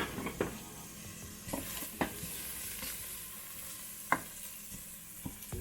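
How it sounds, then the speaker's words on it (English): Herbs and onion sauté in a pan with a steady soft sizzle, broken by several sharp utensil clinks and scrapes as they are stirred, close by and with no talking. "So we've got our herbs and our onion sauteing."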